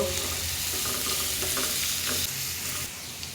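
Chopped pieces frying in hot oil in a pan for a sandwich filling, a constant close sizzle with light stirring throughout.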